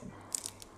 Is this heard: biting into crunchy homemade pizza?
yes